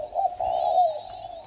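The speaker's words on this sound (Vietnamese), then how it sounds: "Giọng này là giọng chim nó âm, nó nghe nó êm phê hơn." A young spotted dove gives a single deep, low, smooth coo, held and slightly wavering, close and clear against a quiet background.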